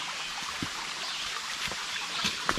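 Creek water flowing at Yahoo Falls in Kentucky, a faint continuous trickling wash with a few small splashes and knocks, heard alone without talk.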